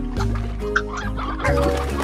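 Chickens cluck in a Slime Rancher ranch scene, a busy run of clucks layered over game sounds and background music, loud and close.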